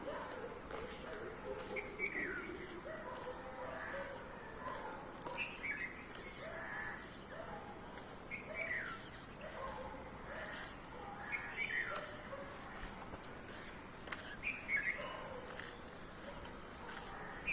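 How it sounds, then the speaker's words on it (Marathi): Crow caws recur every few seconds at moderate distance among softer birdsong and cricket chirps in a calm outdoor setting with little traffic, a steady faint background hiss underneath. "कावळा आपली हजेरी लावतोच लावतो"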